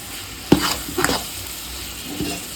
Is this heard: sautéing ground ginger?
yes